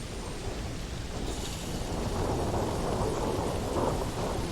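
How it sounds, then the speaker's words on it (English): A corrosive liquid thunderstorm on an extreme planet in Starfield, heard as heavy, continuous rain hiss under a deep rolling rumble of thunder that builds toward the end. "Corrosive liquid thunderstorm."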